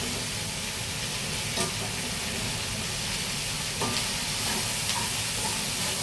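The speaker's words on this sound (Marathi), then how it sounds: "तिला फक्त असे हलवायचे आणि वाफेवर करायचे" A pan of okra and potato stir-fry hisses steadily and loud while being stirred, with a few faint clinks of the spoon against the pan and no talk.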